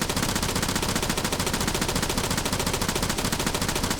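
A rifle fires in rapid sustained automatic bursts in ArmA 3 while aimed at a telephone pole, the shots dense and loud, one continuous rattling stream of gunfire with no gaps.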